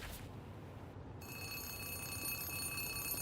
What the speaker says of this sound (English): As you turn away, a phone begins to ring.